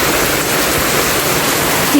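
Steady rain falls on the terrace of a house, a dense, even hiss that stays loud and continuous throughout without pauses.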